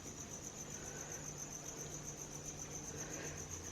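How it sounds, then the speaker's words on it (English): Crickets chirp indoors inside a house, a steady high-pitched trilling pulse that runs on without a break. It is faint against a quiet room hum, and no one speaks. "We've got crickets in the house."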